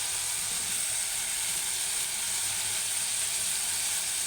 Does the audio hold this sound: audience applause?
no